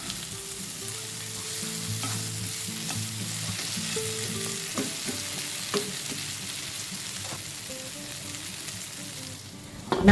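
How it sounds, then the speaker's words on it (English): Okra stir-frying in a pan over low heat with curry leaves and other ingredients, a steady close sizzle with scraping stirs and clinks throughout, ending in a sharp knock. "Frying the okra now on a low fire."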